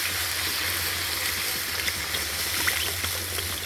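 Water poured into a hot pan while cooking eggs, a steady close hiss and sizzle with faint bubbling crackles, constant in level with no voices.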